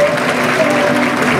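Audience at a student design contest gives loud, dense applause for the third-place winner, a close, steady burst of clapping that fills the short moment.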